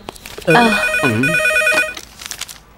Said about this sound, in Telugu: అంజలి, నీకు ఫోన్ అమ్మా.